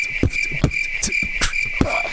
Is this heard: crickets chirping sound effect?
yes